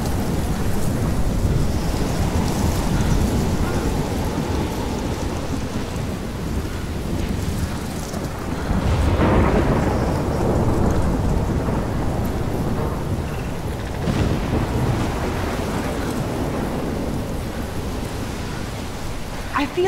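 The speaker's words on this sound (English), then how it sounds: "Storm like this in Oregon." A steady thunderstorm in the game Life is Strange, set in Oregon, with continuous heavy rain and low thunder rumbles swelling around the middle, loud and unbroken throughout.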